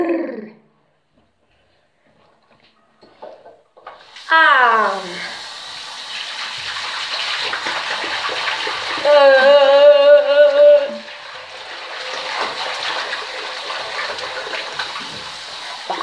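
A bathroom tap runs for face washing, a steady, close gushing stream that swells louder midway, with brief voice sounds just before the water starts.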